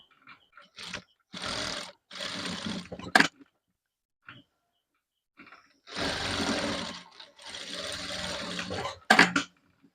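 A sewing machine top-stitches a co-ord set in short bursts, running in two pairs of loud runs separated by quiet pauses, with sharp clicks as each run ends.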